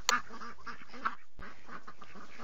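Baby ducks in a Dora the Explorer game, quacking in a few short, close calls spaced about a second apart, with no talk over them.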